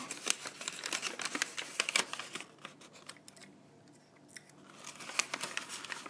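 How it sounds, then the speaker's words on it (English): Paper is snipped with scissors, crinkled, folded and taped into a ball model, a close run of sharp clicks, rustles and crinkles with a quieter pause midway. "just cutting a little slit. And then folding it in and over and taping it down."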